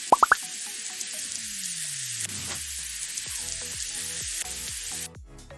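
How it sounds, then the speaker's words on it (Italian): Judea-style artichokes opened like flowers frying in hot oil, a loud continuous sizzle opening with a few sharp plops, bubbling close up and alone until it cuts off near the end. "You open it like a flower. And you fry it twice."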